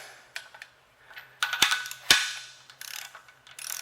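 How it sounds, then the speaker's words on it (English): A torque wrench ratchets while tightening bolts on a Chevrolet 292 short block from a 1966 C20. Close, sharp metallic clicks and rattles come in short irregular bursts, with quiet pauses between them. "I really need my other torque wrench"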